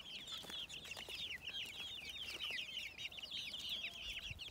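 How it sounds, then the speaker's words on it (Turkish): A flock of young chicks let out into a garden keep up dense, overlapping high peeping and chirping. The sound is continuous, fairly faint and somewhat distant, over soft outdoor background noise with no speech. "Civcivlerimi de saldım canlarım."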